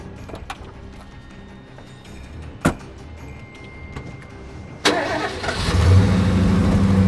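A car door slams in a quiet scene from a dubbed Hollywood action movie, then the car engine starts sharply and revs up into a loud, steady run as the vehicle pulls away.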